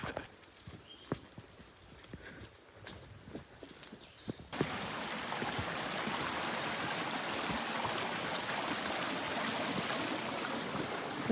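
A river rushing at a crossing on the Appalachian Trail, first heard as soft footsteps and taps and then as a sudden, steady, broadband roar of flowing water that fills the rest of the clip.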